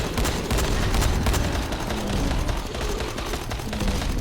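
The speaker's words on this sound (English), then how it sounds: "that SMG is really doing a number on it" SMG fire from Dying Light The Following during a boss fight rattles in a continuous, loud rapid stream with dense repeated cracks and no break for the whole stretch.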